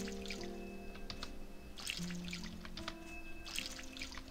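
A watering can pours water in the farming video game Harvest Moon One World, giving short splashy bursts over steady background game music.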